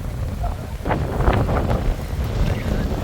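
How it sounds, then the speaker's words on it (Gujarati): Strong wind buffets the microphone in a steady broadband roar, with a few faint voices and knocks mixed in. "પવન બહુ છે"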